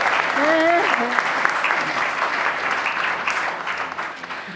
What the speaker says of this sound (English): a nice round of applause for our ring bearer